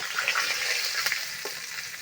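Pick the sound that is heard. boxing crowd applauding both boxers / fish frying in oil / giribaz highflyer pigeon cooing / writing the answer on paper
fish frying in oil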